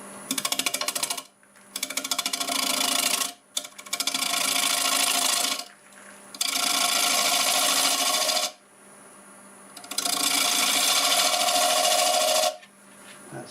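A lathe tool cuts across the top of a spinning black walnut turning to flatten it, making four long, loud rasping scrapes separated by short pauses.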